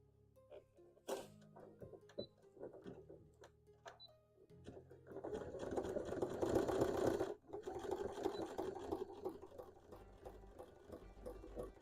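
A home sewing machine starts with a few short bursts, then stitches in a steady, continuous whirring run for several seconds before briefly pausing and resuming, heard close with no talking.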